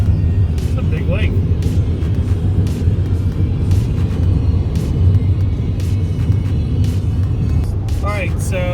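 A car drives across the Denison Dam at Lake Texoma, giving a steady, loud road rumble and tire drone from inside the cabin, with voices briefly heard over it.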